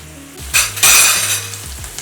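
Beef burger patties fry in butter in a pan, a loud close sizzle that swells as they are stirred or moved, with faint clinks of utensil on pan.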